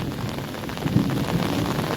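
Heavy rain pours steadily during a storm in the Gir countryside, a dense close hiss with a low rumble of thunder swelling underneath.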